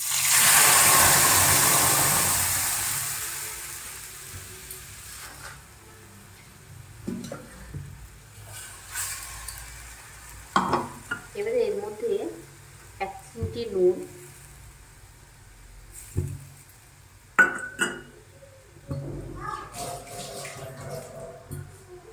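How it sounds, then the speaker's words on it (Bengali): Tomato paste hits hot oil in a wok for momo sauce with a loud burst of sizzling that fades over a few seconds, followed by a person talking between occasional quiet stirring sounds. "সস বানানোর জন্য প্রথমে আমি কড়াইয়ে তেল দিয়েছি এবার আমি এই পেস্টটা দিয়ে দেবো"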